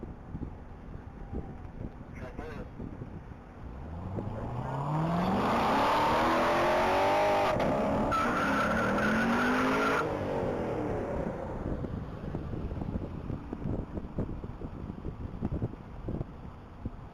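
A black 2014 Corvette Stingray on a standing-mile top-speed run, its engine rising from a distance to a loud, close pass with climbing gear-shift whine, then trailing off into strong wind noise.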